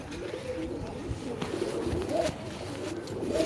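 A large white-eyed pet pigeon with a white beak coos softly and repeatedly at close range, its low throaty calls running under some background handling noise.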